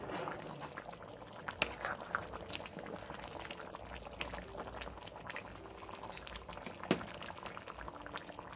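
Jamaican beef soup with red peas simmers in a pot, a faint steady bubbling with soft liquid gurgles and a couple of small clinks, no voices.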